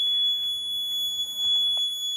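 A Fire-Lite MS-2410B fire alarm system sounds after its pull station is activated, giving a steady high electronic tone that holds continuously and fairly loud, with no talk.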